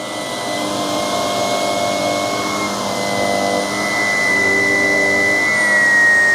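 Ecovacs X11 Pro robot vacuum running with a loud, steady motor whine and airy rush, a high tonal hum sliding slightly in pitch as it works, close and continuous with no speech.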